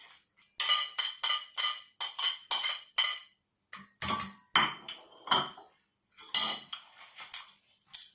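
A fork or spoon beats mashed bananas into batter in a bowl, giving a run of sharp, close scraping clinks in quick bursts with short pauses between.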